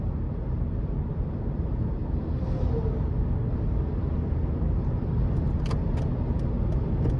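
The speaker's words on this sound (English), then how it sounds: "I can hear the wind noise pretty well" Inside the cabin of a 2004 Toyota 4Runner SR5 on the move, a steady broadband rush of wind and road noise fills the space, even and continuous, with faint brief clicks near the end and no talking.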